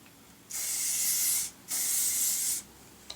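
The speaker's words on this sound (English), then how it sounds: "use a little bit of this Tresemme hairspray" Two steady bursts of TRESemmé hairspray, each hissing for about a second, separated by a brief pause. The spraying is close and fairly loud.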